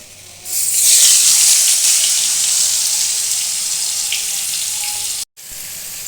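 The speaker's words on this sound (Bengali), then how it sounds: "দিয়ে এবার আমি পটল আলুটা দিয়ে দেবো এর মধ্যে" Pointed gourd and potato pieces drop into hot oil with cumin seeds in a kadai, setting off a loud, sustained close sizzle that stays steady for several seconds before a brief cut.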